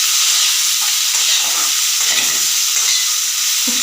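Capsicum for chilli paneer fries in a hot pan, giving a loud, steady broadband sizzle throughout with faint stirring scrapes underneath and no talking.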